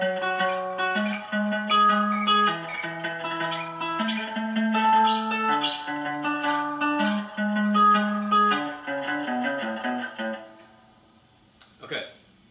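Electric guitar through effects plays a riff, a run of ringing, slightly distorted notes and an octave walk down for about ten seconds, then fading out with a brief scrape of string noise near the end.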